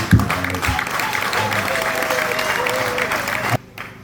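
A church congregation bursts into sustained applause and cheering that fills the room, then cuts off abruptly near the end, leaving near quiet.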